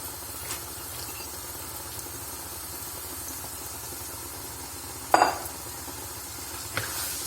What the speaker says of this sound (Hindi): अब मैं इसके अंदर ये जो 2 कप चने की दाल थी ये ऐड करूँगी।